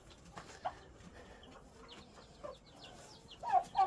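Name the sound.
hens and chicks clucking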